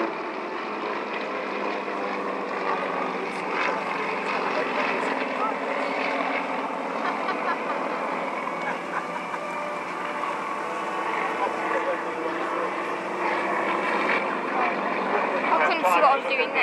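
Yakovlev propeller aircraft fly in a long line-astern formation at the Cosford airshow, a steady droning engine roar holding at moderate volume throughout, with a commentator talking over it on the public address.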